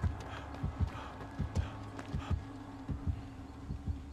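A deep, throbbing heartbeat pulses in a steady rhythm in Dead by Daylight, the killer's terror radius thudding repeatedly at moderate volume, with no talking over it.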